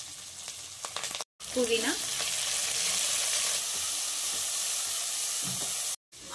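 Masala, ginger garlic paste, curry leaves and mint fry in a pan with a steady, close sizzle and hiss. Two brief dropouts break it, and a voice speaks once.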